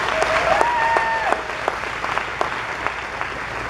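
Audience applause at a Clewiston town hall meeting for a marina speaker, a steady wash of clapping from a seated crowd with a few sharper nearby claps and a brief voice over it.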